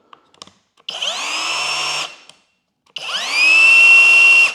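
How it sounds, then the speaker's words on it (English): A Flex SDS rotary hammer runs in plain drilling mode for two bursts of about a second each with a brief pause between them, its motor whining up to speed close by and loud, with no talk. "what it's set at right now is just drilling mode"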